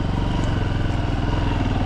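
A motocross motorcycle strains on a dirt track in the countryside, its engine a loud, steady, close-up pulsing drone with no voices.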